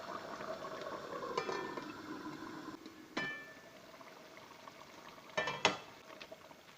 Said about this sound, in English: Now bring that to a boil.